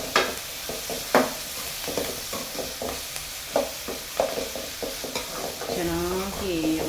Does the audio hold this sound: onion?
yes